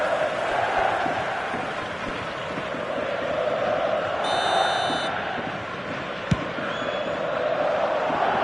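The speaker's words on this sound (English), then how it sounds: "the crowd are reacting to that now" A football stadium crowd reacts as momentum shifts in a match, a broad continuous roar of many voices with swells and a brief whistle-like tone midway, a sharp knock near the end.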